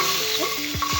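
Ginger and garlic frying in a spoonful of hot oil in a kadai on a gas stove, a steady close sizzle with a few quick scraping stirs of a spoon against the pan.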